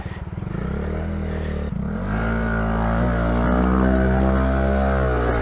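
A Honda Monkey 125 motorcycle engine revs loud and hard for several seconds while riding through deep water, its pitch climbing and straining steadily, with some clatter.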